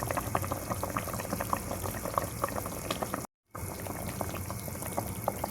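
A pot of water boils steadily with fish-cake pempek cooking in it, the close bubbling continuous apart from one brief silent gap.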